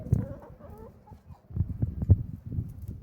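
Farmyard chickens, a small flock of hens and roosters, cluck and grumble close by in short irregular bursts while they feed, with no talk.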